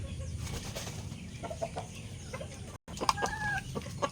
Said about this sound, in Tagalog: ito ang ay broodhen na po yan, white leg din po yan.